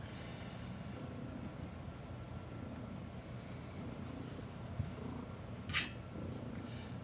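A cat purrs loudly and close by, a continuous low rumbling drone that stays steady throughout, with one brief faint click and a soft swishing sound near the end.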